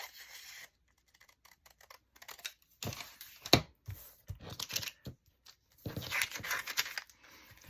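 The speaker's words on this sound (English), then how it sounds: "I'm just going to cut this piece off." Scissors snip through a piece of vellum paper in a few short, quiet cuts at close range, with faint paper handling around them.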